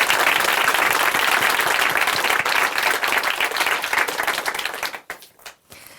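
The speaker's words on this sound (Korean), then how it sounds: "다시 한번 응원의 박수 보내드리겠습니다" Sustained audience applause in a church testimony broadcast, steady and full for about five seconds, then trailing off into a few scattered claps.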